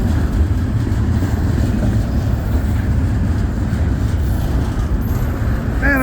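Norfolk Southern freight train with a mid-train DPU locomotive rolling past north of Findlay, Ohio, a steady, loud broadband rumble of wheels and cars held throughout, with no talking.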